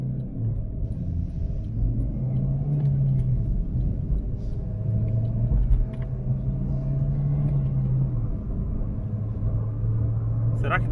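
An Opel Vectra fitted with 20-inch wheels, 215/30 tyres and air suspension accelerates from 0 to 100 km/h, heard from inside as a steady low engine rumble rising in pitch through successive gear pulls, with people talking over it.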